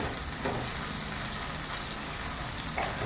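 Chopped tomatoes sizzling in frying ginger-garlic paste, stirred in a pan with a steady, close crackle and faint spoon scrapes, no talking.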